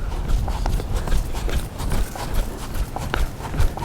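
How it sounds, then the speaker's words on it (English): A horse trotting under saddle in an arena, hooves striking the ground in a steady, fairly close rhythm over low background noise. "So what we'll do is we'll put a horse on a trot"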